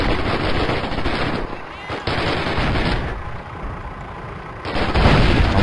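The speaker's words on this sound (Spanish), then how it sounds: "sonido de balas" Rapid machine-gun bursts and rifle fire from a Call of Duty: United Offensive battle crackle loudly and almost without pause, with heavier booms swelling near the end.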